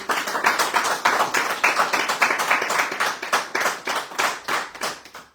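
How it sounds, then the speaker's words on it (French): A small audience claps for a departing guest on a French radio bistro show, a lively patter of distinct, close hand claps with an uneven rhythm, swelling and fading over several seconds. "On applaudit Paulette qui part parce que je sais que Paulette a des soucis"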